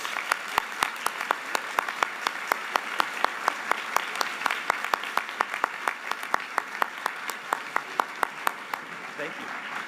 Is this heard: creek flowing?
no